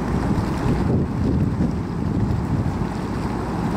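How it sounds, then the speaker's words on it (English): Pump on a dairy farm forcing manure slurry out to the lagoon pit, a loud, steady rushing roar with low rumble and constant gushing, close and unbroken, with no talking. "So it's just pumping out to the pit now."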